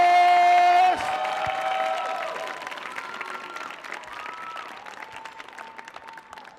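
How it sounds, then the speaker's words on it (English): An audience at a youth poetry event on the Millennium Stage claps steadily. The applause breaks in after a sustained tone and carries on as a dense, fairly loud patter of many hands that slowly thins. "Ladies and gentlemen, start clapping right now for Kaya Ray Lucas!"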